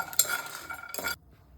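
A metal spatula clinks and scrapes in a pan as drumstick pods fry with cumin and green chillies. A short burst of close stirring lasts about a second, then it goes quiet.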